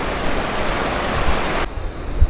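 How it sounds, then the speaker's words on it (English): A river current flows through a remote Colombian canyon, giving a steady, close hiss and wash of moving water that briefly thins near the end. "a bit of a current to the water,"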